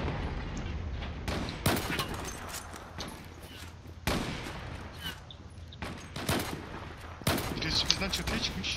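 Gunfire in the online shooter Zula, with repeated sharp shots and short bursts scattered through the scene at varying distance, while a voice talks now and then underneath.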